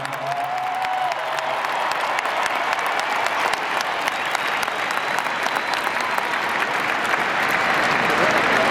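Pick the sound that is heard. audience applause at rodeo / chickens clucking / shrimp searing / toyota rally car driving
audience applause at rodeo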